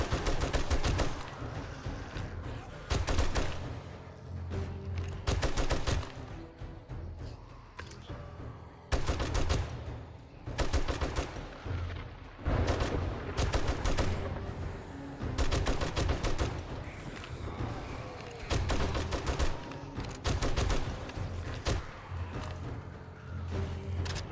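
Repeated gunfire in the survival game 7 Days to Die, loud and close. It comes as bursts of rapid shots with short pauses between them, running steadily throughout.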